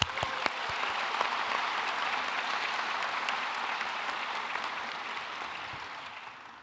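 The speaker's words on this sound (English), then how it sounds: "Let's give them a round of applause." Applause from a large audience at a medical school white coat ceremony, a broad, steady rush of clapping that sounds somewhat distant and slowly tapers over several seconds.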